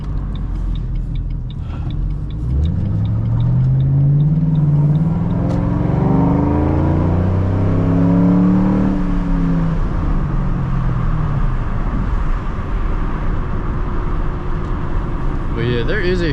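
A V6 Ford Mustang driving on a road at night, its engine droning steadily and rising in pitch as it accelerates through gears, heard from inside the car with a slight crackle, loud and continuous throughout.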